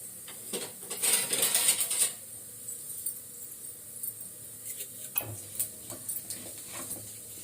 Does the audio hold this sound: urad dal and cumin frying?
yes